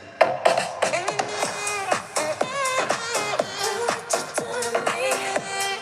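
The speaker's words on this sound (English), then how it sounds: "Today I'm producing a deep house song from scratch" A deep house track plays at moderate level, with layered tonal synth or vocal-like melodic lines over steady rhythmic hits, continuous for about six seconds with no talking.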